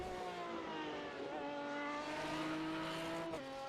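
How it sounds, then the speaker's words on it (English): A GT race car engine in iRacing at Watkins Glen screams at a steady high pitch against its rev limiter, with brief stutters as it bounces off the cutoff, loud and continuous. "Getting up to the rev limiter"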